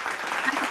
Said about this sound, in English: We'll all give you a clap for that